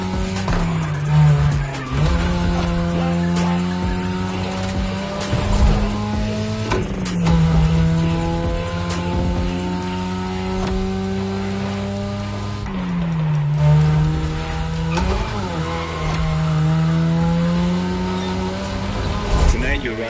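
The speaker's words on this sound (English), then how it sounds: "Tonight your ride is a 3rd Gen 2002 Mazda RX-7. Lightweight, compact, a sick rotary engine" A third-generation 2002 Mazda RX-7 with a rotary engine drifts in a racing video game: a sustained, wavering tire squeal rides over the high engine drone for about twenty seconds, with a voice heard at times.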